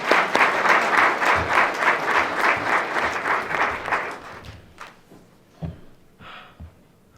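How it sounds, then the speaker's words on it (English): A round of applause from an audience at a Martin Luther King Day celebration in a town hall, dense steady clapping for about four seconds before thinning out into a few scattered claps and fading. "Round of applause for everyone that came before"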